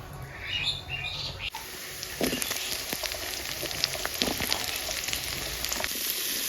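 Sweet pumpkin pieces frying in a pan of oil used for fish and onions, a steady close sizzle with scattered crackles and pops, faint bird chirps behind it.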